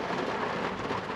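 Rain falling on a sailing boat in the Society Islands, a steady dense hiss and patter that fills the moment evenly and close by, with no talk.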